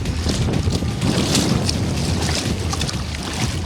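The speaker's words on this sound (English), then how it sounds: "we got some rapids." River rapids churn on the Salt River in Arizona during a float, a broad, hissing rush of water mixed with wind buffeting near the microphone.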